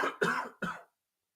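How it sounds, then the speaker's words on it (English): Three harsh coughs in quick succession, close and fairly loud, followed by silence. "I don't know why I'm coughing too much right now."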